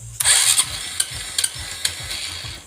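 Honda XRM 125 Fi motorcycle engine starting: a short burst of cranking and catching near the mic, followed by uneven idle with a few sharp pops and surges.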